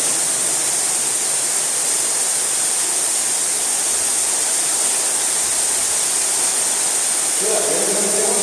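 Steady, dense roar of water falling inside a mine tunnel, loud and continuous, like a heavy downpour or waterfall close by.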